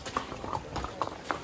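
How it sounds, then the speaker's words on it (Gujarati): Horse hooves clip-clop faintly in an uneven rhythm on a monsoon day in the hill town of Matheran, a few soft hoof strikes spaced apart. "અને હવે જઈ રહ્યા છે ઘોડા પર"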